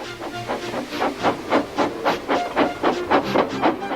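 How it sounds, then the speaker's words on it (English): A steam engine blows off steam in rhythmic hissing bursts, about a dozen evenly spaced puffs that rise and fall close by, with no voices. "Gordon, with much noise and blowing of steam, got ready to back onto the train."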